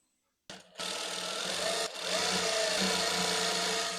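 A sewing machine stitches the side seam of a kameez in one continuous, steady whir after a brief start and stutter, close and loud throughout.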